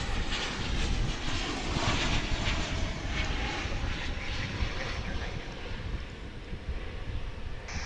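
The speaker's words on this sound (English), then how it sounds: "That American Airlines flight 2342 coming in from San Antonio, Texas, a 737-800." An American Airlines Boeing 737-800 jet arrives from San Antonio, its engines giving a strong, steady roar with rumbling low end and airy hiss, slowly easing toward the end, with no talking.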